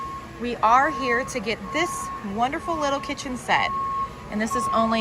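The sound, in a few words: beeping from work vehicles in a store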